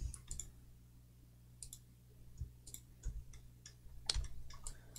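Computer mouse and keyboard clicks while working in Houdini 3D software, sharp isolated clicks scattered irregularly over a quiet background hum, some in quick pairs.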